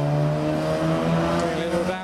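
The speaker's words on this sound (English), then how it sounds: "A little downshift." A car engine drones steadily at a car show, its tone shifting slightly as it downshifts, with faint background noise.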